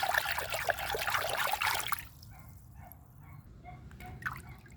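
Fertilizer being stirred by hand into a container of water, heard as a close burst of sloshing and trickling for about two seconds, then settling into faint scattered drips.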